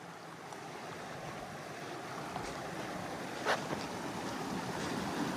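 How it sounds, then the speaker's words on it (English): The South Branch of the Carrabassett River rushing over big boulders, a steady broadband roar of flowing water mixed with wind noise on the microphone, continuous and fairly close, with no talking. "this is South Branch of the Carrabassett River."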